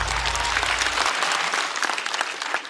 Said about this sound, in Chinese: 再次掌声送给基业。